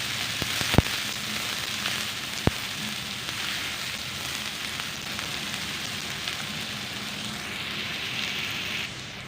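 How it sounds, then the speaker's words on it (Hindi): Onions sautéing in hot oil in a pan give a steady, soft sizzle that runs the whole time, with a couple of sharp clicks near the start and no talking. "अब इसी ऑयल के अंदर प्याज शामिल करते हैं और 1 मिनट के लिए सौते कर लेते हैं प्याज को।"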